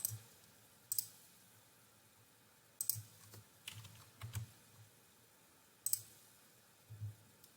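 Computer mouse clicks in HR time-card software, sharp isolated clicks at irregular intervals, some in quick pairs, close and quiet over a near-silent background.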